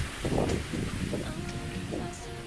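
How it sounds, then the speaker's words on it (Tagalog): Strong wind buffets the microphone in loud gusty rumbles near the Ulango hanging bridge, with voices talking faintly underneath and some rustling. "Lakas ang hangin, guys."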